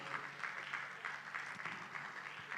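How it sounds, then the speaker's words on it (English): Conference audience at an autism event claps to welcome a speaker, a faint, distant, even patter of applause held steadily throughout. "Ladies and gentlemen, with a warm round of applause, please welcome Dr. Bernadette Kilo"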